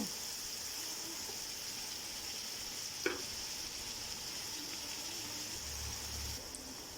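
Snake gourd (chichinda) with ginger-garlic paste frying in oil in a pan gives a faint, steady close sizzle, with a single sharp utensil tap midway and a soft low murmur near the end.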